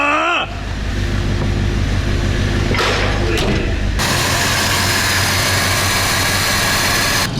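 An old, cheap IZh motorcycle engine fires up for its first start after restoration, roaring loudly and continuously up close and revving hard, with a voice briefly talking under the noise.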